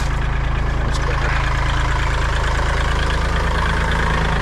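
A Kubota-style L2502 compact tractor engine idles steadily up close, a continuous low, even chug with a faint knocking pulse and no talking.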